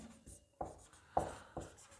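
A pen writes on paper during a maths lesson, with faint close scratchy strokes in four short rhythmic bursts in a quiet room.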